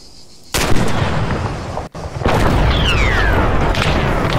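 After a quiet start, an Arma 3 rocket launch cracks out loudly, followed by a heavy boom and a sustained rumbling roar, with a falling whistle passing through as the blast settles into steady noise.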